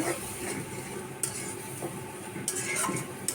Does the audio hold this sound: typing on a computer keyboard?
no